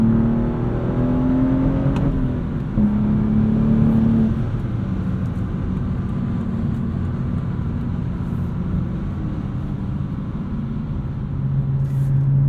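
A modified 2016 BMW 435i with a six-speed manual drives through traffic, its engine note steady and close, a brief rise in revs near the start as gears change, then a continuous low droning hum throughout.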